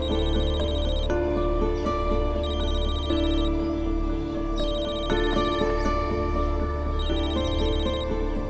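A telephone rings in repeated electronic bursts with short gaps between them, loud and close against a faint steady background, and nobody speaks.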